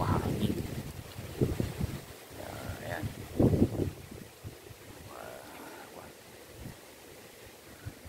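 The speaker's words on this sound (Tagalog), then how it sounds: "Medyo mahangin." Gusty wind rumbles across the microphone outdoors behind a house, with scattered voices and movement underneath, rising in a few louder bursts.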